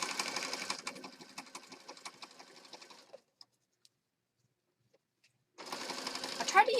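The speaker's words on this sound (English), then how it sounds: "we're going to stitch again" A sewing machine stitching fabric for a junk journal runs in a fast, steady whir for about three seconds, falls silent, then starts up again near the end, with a voice faintly present.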